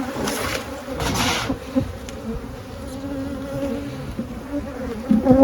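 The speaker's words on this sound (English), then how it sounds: "that's just because the bees are covering the camera" Dense, close buzzing of many honeybees around an open hive, a continuous droning hum with louder swells as insects pass near.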